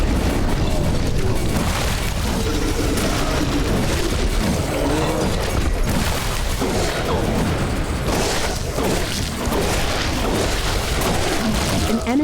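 A base building blown apart in the sci-fi video game The Riftbreaker, a loud, dense rumbling roar of blasts and debris that stays heavy and sustained throughout amid battle noise.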